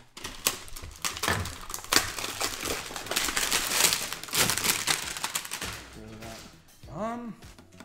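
Plastic packaging from a Chargepoint Home Flex Level 2 EV charger crinkles and crackles in close, busy bursts as it is handled during unboxing, with a brief clunk near the end.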